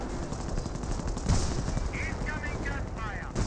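Gunfire in the Company of Heroes video game: dense, continuous rattling bursts of shots over a loud, noisy battle bed, with a few sharper cracks standing out.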